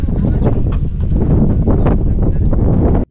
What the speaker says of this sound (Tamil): காற்று அடிக்கும்போது பார்த்தீங்கன்னா ஃபோனே பறந்துடும் போல இருக்குது, அந்தளவு காற்று அந்த இடத்துல அடிச்சுட்டு இருந்தது